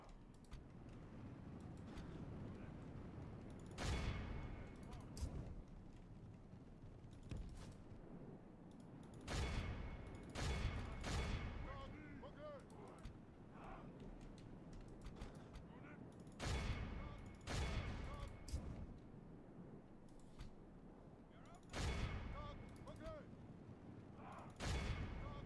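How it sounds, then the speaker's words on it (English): Catapults fire in a Total War battle from the Elder Scrolls mod, as repeated sharp booming impacts in irregular bursts over a constant busy battle din. "I think I just turned my catapults off, so the fact that they're still firing is a little bit annoying."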